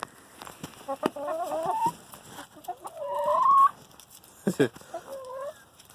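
Several chickens cluck and squawk close by in uneven bursts, with rising warbling calls and brief sharp noises in between.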